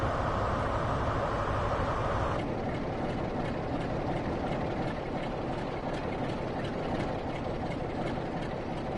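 Train coaches rolling past in the Train Sim World 5 video game, a steady loud broadband rumble of wheels on rails with faint clicks and no change in level throughout.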